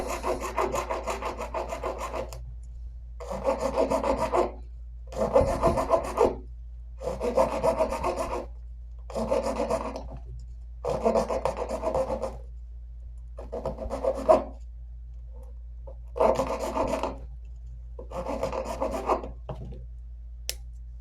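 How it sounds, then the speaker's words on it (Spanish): A hacksaw blade cuts through a piece in a steady series of about nine rasping bursts of back-and-forth strokes, each separated by a short pause, close and clear with no talking. "Para ello es importante contar con una hoja de cegueta y vamos a cortar aquí."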